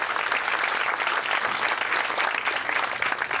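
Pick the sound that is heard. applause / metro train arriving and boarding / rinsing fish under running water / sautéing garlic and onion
applause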